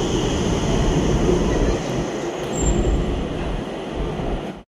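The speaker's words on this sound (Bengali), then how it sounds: "তো এদিক দিয়ে মেট্রো আইব" An Agra underground metro train arriving at a station platform, a loud sustained rumble and rush that swells and eases before cutting off abruptly.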